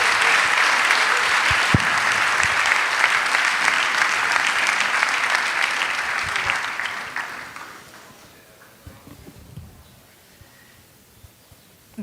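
Sustained applause from the audience at an international architecture festival session, a thick wash of many clapping hands that tapers off after about eight seconds into quiet room tone with a few scattered claps.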